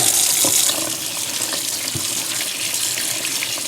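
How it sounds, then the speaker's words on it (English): Champignon mushrooms rinsed under a cold running kitchen tap, with a steady, close, full hiss of water splashing into the sink. It continues without a break, and no one speaks. "So wash it with cold water."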